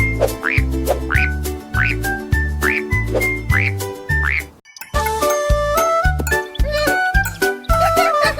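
Playful croaking frog sounds bounce along to a bouncy beat in a French children's song, repeating in a steady rhythm, then pausing briefly before chiming, tinkling music carries on.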